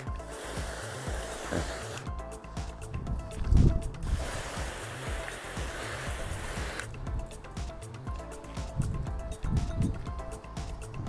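A garden hose sprays water onto a car being tested after its wax and sealant were stripped, a steady hissing splash that rises and falls as the stream moves across the panels.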